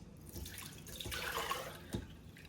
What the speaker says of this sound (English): Let's go ahead and get this strained out.